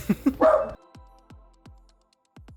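A dog gives a quick burst of close yips and barks at the start, followed by several sharp, sparse knocks with quiet pauses between them.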